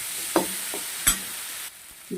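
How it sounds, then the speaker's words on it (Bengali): Vegetable stems and diced potatoes frying in a pan with cumin powder: a soft steady sizzle, broken by a few sharp scraping stir strokes from a spatula, close by, with no talking. "ভালো করে সবজিটাতে ভেজে নিচ্ছি"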